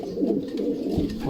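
Racing pigeon cooing close by, a soft low repeated coo rolling on over a bit more than a second.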